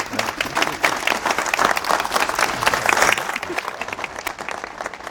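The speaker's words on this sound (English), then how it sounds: "Can we get a round of applause for both?" Audience applause at a telehealth panel discussion on VA health care, a dense, steady burst of many hands clapping that holds for several seconds before tapering slightly.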